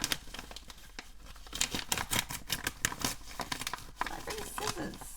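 Scissors cutting open a book mail package, with quick snips, crinkling and tearing of packaging close to the microphone in a quiet room.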